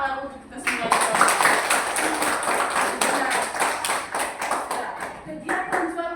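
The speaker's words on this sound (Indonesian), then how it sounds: "Oke, tepuk tangan untuk kita semua." Elementary school class clapping hands together during a social studies lesson, a quick burst of group claps that repeats, with a teacher's voice talking in between and over them.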